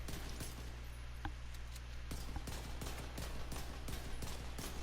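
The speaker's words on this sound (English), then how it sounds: "you can see what the shots look like with an Achilles pulse on your max stacks" Liberty pistol shots in the video game The Division 2 during a PvP build demonstration, a rapid series of sharp clicky shots over a steady low hum, fairly quiet and evenly paced.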